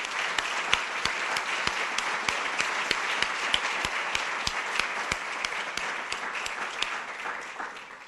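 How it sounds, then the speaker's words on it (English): Audience applause for Elna Scheinfeld at an evening Scheinfeld Center event, a steady wash of many hands clapping with sharp individual claps standing out near the front, sustained throughout before tapering slightly at the end. "So I'd like to have a round of applause for Elna"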